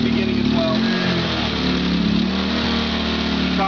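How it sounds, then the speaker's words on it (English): A portable CPE generator running as a steady, close mid-pitched engine drone that holds even and unbroken throughout. "I'll go ahead and start up one of the CPE generators here"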